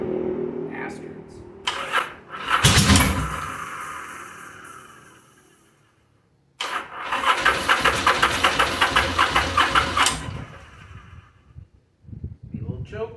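A Yamaha Virago bobber with rich running and spark plug fouling cranks and sputters, fades out, then cranks again into a rough, pulsing run that drops away, with speech around it.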